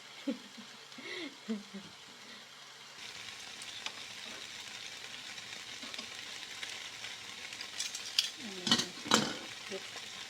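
Teriyaki chicken fries in a pan with a steady sizzle, then gets turned over, and the sizzle swells louder. Scattered clatters and spatters rise near the end.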